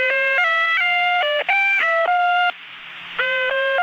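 Radio Cairo's interval signal from a 1960 broadcast, a short tonal melody of bright, reedy held notes played in a few phrases with a brief pause, over faint hum and with no voices.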